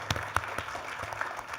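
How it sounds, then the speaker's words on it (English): An audience in a competition venue gives a short, light round of applause, scattered claps rising and falling at moderate distance. "let's give them a round of applause here in the room"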